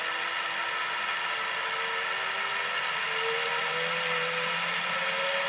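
Model railway locomotive motor running steadily at about a fifth throttle, a close, continuous high whirring whine that rises slightly in pitch partway through, with no other sounds.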